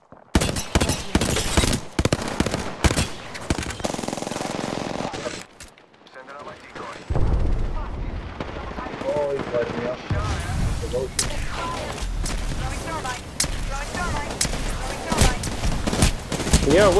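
Rapid bursts of gunfire in the Apex Legends video game, dense overlapping shots from a firefight, with a brief lull midway before the shooting resumes loud and sustained, mixed with other game sounds.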